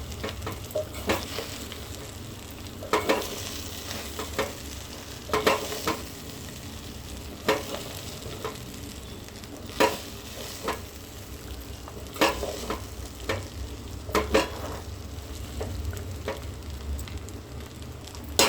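A spatula stirs food with squeezed lemon juice in a cooking pan, producing regular scraping strokes every second or two over a low, steady sizzle, close and without talk.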